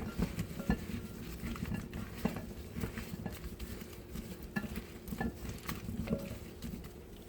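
Turkey, bacon, mushrooms and potatoes dusted with flour are tossed together in a pan, making a close, irregular patter and clatter of food against metal.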